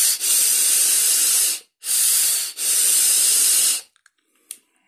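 Three long, loud breathy hisses come from someone blowing air through a Smok Prince vape tank with its airflow open, each lasting over a second with brief gaps between. A couple of small clicks follow at the end.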